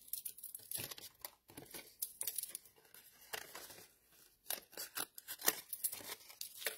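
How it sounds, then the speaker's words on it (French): Scissors snip through paper with quick, close crisp cuts and crinkling, arriving in irregular bursts with brief pauses between them. "j'ai comme coupé le papier."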